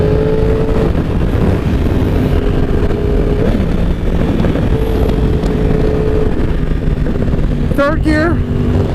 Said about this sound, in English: Shifting up and down without the clutch on the Yamaha R1M